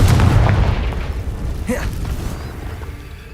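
A Confringo blasting spell goes off in the Hogwarts Legacy video game with a deep, loud boom that rumbles and slowly fades. A brief rising whistle cuts through the tail.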